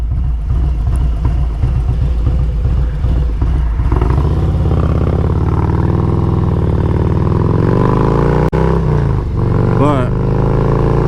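A motorcycle fitted with a Wood 22XE cam rumbles loudly, then accelerates with its engine note climbing smoothly through the gears while a rider talks over it.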